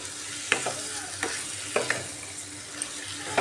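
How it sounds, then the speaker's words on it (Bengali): Chicken being stirred with salt and spices in a hot pan, a continuous sizzle broken by several distinct scraping strokes of the spoon at irregular intervals, close and fairly loud, with no talking. "মশলার সাথে মিক্স করতে হবে।"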